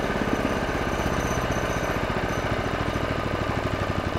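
A $20 mini bike's small engine running rough and unable to settle into an idle, a loud, close, continuous rattling chug with fast uneven pulsing throughout, suspected low compression.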